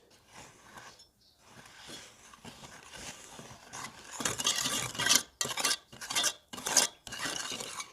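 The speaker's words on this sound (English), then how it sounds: "Mix this well until the sugar starts to dissolve a bit." A spoon scraping and clinking against a pot while stirring sugar syrup with rose water, starting quiet and growing into rhythmic, close scraping strokes with short pauses between.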